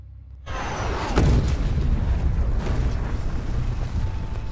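A sudden sharp blast rings out amid a loud, chaotic rumble of action, followed by sustained noisy commotion.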